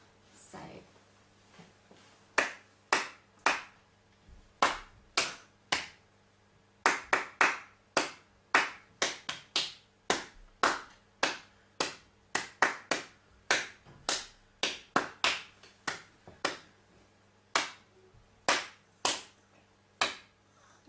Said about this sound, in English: I'm going to clap a rhythm for you to repeat back to me